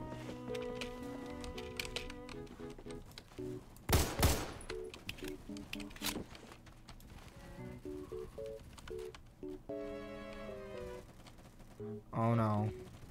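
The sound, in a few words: gunfire in the video game Phantom Forces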